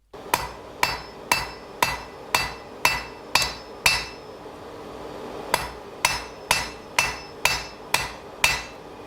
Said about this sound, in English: I'm holding the hammer near the end of the handle and pivoting it in my hand a lot